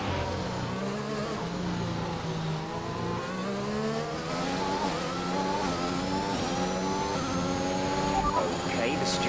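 Race cars accelerate at Spa in a racing video game, with a continuous layered engine whine from several cars rising and falling in pitch through gear changes, steady and loud, while a voice talks over it.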